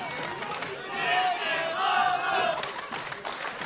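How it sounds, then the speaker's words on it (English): Wrestling crowd at an FSW event roaring and shouting together, a sustained loud swell of voices that rises and peaks in the middle. "The crowd coming alive."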